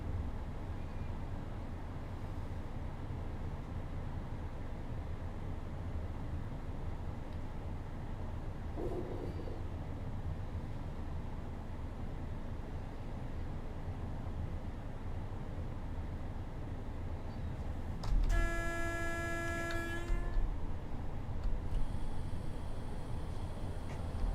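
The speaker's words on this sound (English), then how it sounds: "So I'm just letting the train coast down." A Class 31 diesel locomotive coasting in Train Simulator 2020 gives a steady low rumble and rolling noise throughout, with a brief tonal chime-like sound near the end.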